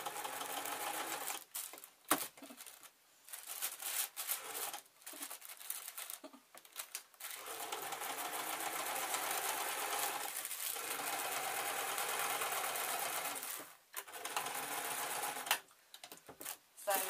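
A sewing machine runs in repeated bursts while sewing scrap cloth juggling bean bags filled with rice, each stretch of rapid clattering stitching broken by short pauses and handling noises.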